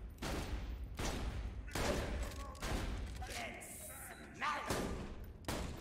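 Repeated bursts of video game gunfire fill the mix, a steady run of fire and impacts with some electronic tones, heard faintly under a gamer's voice.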